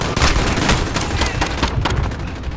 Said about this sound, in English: they're shooting people